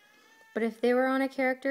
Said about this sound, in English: that's my dog and my cat are fighting